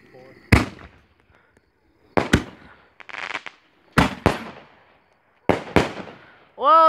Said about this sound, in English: You can see some of the fireworks over there, I think.